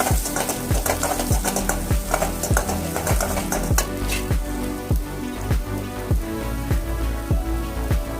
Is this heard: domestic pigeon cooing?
no